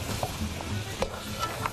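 Grated ginger and ginger julienne are stirred into a cooking pot, giving soft scraping and shuffling with a faint sizzle underneath and a few light utensil taps, close and brief, with no voices.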